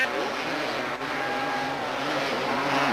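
Motocross motorcycles race at the 1989 Mammoth Mountain event, with Jason Melton on a Honda out front. A steady, dense engine roar holds throughout the clip, with a brief dip near one second and a live commentator talking over it.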